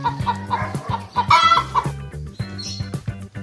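A hen clucks in short, repeated bursts, close and fairly loud over background music, with a brief higher squawk in the middle.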